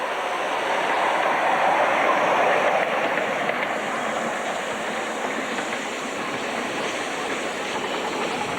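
A 7¼-inch gauge miniature locomotive, Great Northern, runs at a society meeting at Weston Park, giving a steady rushing, hissing rumble that stays fairly close and even throughout.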